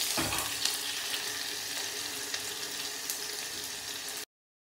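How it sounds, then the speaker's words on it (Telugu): Curry leaves and onion frying in hot tempering oil for an Andhra-style cucumber, drumstick and tomato curry, a steady close sizzle and crackle with faint stirring, no talking, ending abruptly. "తాలింపు చేసి తాలింపు దినుసులు అవన్నీ వేసి అది కొంచెం వేగినాక కరివేపాకు, ఉల్లిపాయ వేసాను."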